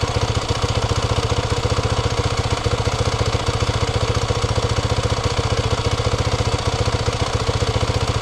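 A Maverick 4x4 engine runs continuously at a steady idle, a loud, close, rapid thumping putter with even rhythm and no talk over it.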